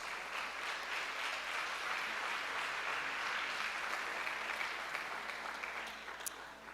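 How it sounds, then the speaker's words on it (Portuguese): Church congregation clapping to glorify Jesus during a Portuguese-language service, a sustained, even wash of applause that stays moderately loud and tapers slightly near the end. "Aqueles que podem aplaudir e glorificar Jesus"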